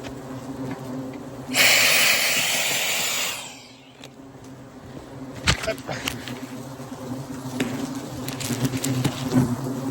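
European and Asian hornets buzzing around a nest being treated with powder near Château-Renault, a loud close buzz for a couple of seconds, then a fainter, persistent droning hum with scattered knocks and rustles and some talk.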